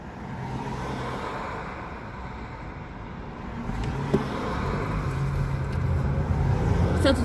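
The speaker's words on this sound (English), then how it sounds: "So today we are going to be driving end to end Baltimore Avenue." A car drives along Baltimore Pike, its steady engine and road hum rising slightly partway through, with a brief knock and faint passing traffic; no one speaks.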